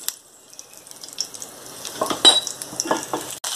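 Cumin seeds and dried red chillies hit hot sesame oil, giving a crackling sizzle that builds from quiet to lively, with scattered sharp pops and light stirring clinks of a utensil in the pan.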